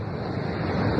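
Sea waves wash onto Cabangan beach in Zambales on a morning stroll, a steady, close, loud roar of surf with a breezy edge and no voices.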